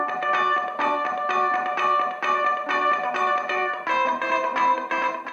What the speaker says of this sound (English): Variation A sounds like chorus widening to me.